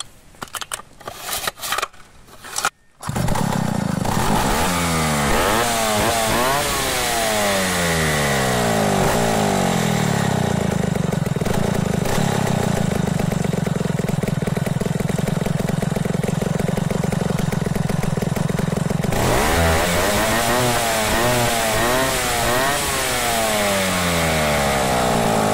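A 070 chainsaw engine idling during carburetor tuning, starting with a few rough sputters before catching and settling into a steady, loud, close buzzing idle that wavers slightly in pitch near the end, with no talking.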